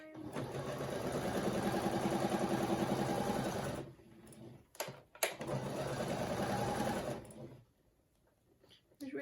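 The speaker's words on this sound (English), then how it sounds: "you're sewing the strips in some semblance of a pattern that you can follow" A sewing machine stitches fabric strips for a scrappy granny-square quilt throw, running in a steady close whir for several seconds. It stops briefly with a few clunks, then runs again in a second long burst.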